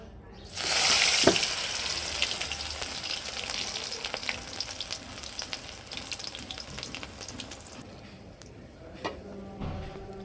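Pumpkin leaf fritters dropped into hot oil, a sudden loud sizzle that flares up and then settles into a steady crackling hiss, close by, with scattered pops and a faint voice near the end.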